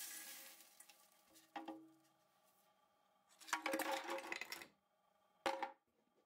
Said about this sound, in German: Zusätzlich wird weiterer Plastikschrott in den Behälter gegeben.